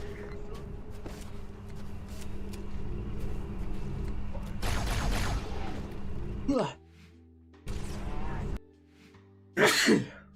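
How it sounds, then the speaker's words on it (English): Loud sound effects and game noise from Halo 2, then a single sharp sneeze near the end, close and abrupt. "Edged out that sneeze for a while."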